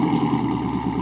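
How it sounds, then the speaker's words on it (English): A Chevrolet Corvette fitted with a Corsa Extreme exhaust rumbles at a cold-start idle, a deep, steady and loud burble heard close up with no talking. "Here is this absolutely awesome cold start."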